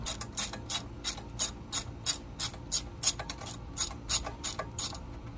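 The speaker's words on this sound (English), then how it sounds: "just use this one socket to take everything off" A socket ratchet clicking through repeated quick bursts of pawl ticks while loosening screws on a lawn mower to reach the carburetor, close and crisp with short pauses between strokes.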